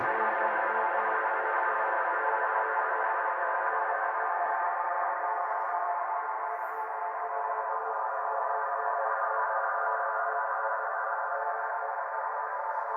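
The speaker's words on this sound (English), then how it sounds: "there's a little example of kind of what I can do with a bit of distortion and some ambient music" Ambient music distorted through a DIY tape saturation setup drones in a sustained, washed-out wash of infinitely held reverb, holding steady and slowly thinning toward the end with no voices.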